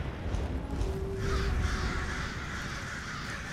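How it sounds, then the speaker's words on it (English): Crows caw repeatedly in an undead-themed video game, harsh calls layered over a steady ambient background, fairly close and clear with no talking. "I could summon my own crows"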